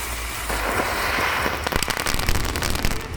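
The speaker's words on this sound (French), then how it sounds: "J'ai utilisé un pétard pour simuler cela." A burst of loud crackling pops, dense and sharp, rattling on for a few seconds like a string of firecrackers going off close by.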